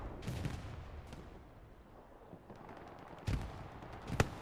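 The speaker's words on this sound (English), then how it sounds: "Oh, there was explosion behind." Distant explosions and gunfire on a Hell Let Loose battlefield: faint crackling shots early on, then a couple of sharper blasts near the end over a low rumbling background.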